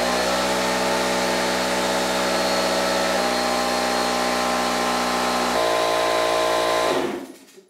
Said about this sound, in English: thanks, air compressor!